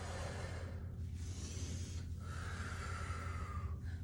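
Forceful breathing during a postpartum core workout, with a few audible breaths in and out rising and falling close to the mic over a steady low background hum, and no speech.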